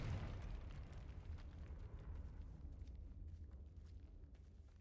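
The Confringo blasting spell in Hogwarts Legacy bursts with a low rumbling explosion that fades out over a few seconds, faint and without talk.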